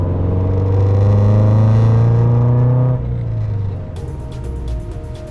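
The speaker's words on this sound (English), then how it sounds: "Then we're gonna slam on the brakes, bring it down to about 15." A Subaru BRZ decelerates hard from about 40 mph as its brakes are bedded in. A loud, close engine and road rumble drops in pitch and cuts back around the midpoint, then fades to quieter tire noise.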